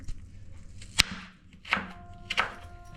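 Knife chopping vegetables finely on a board for veg frankie roll filling, three distinct sharp cuts spaced about a second apart, fairly close with a quiet background.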